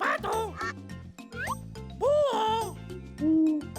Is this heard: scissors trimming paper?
no